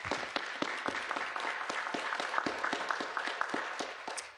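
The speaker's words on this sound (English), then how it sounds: "Can we give them all a round of applause" Applause from an audience at a mayoral press event on asylum seekers: a dense, steady crowd of claps sustained at moderate loudness throughout, heard from a slight distance in a hall.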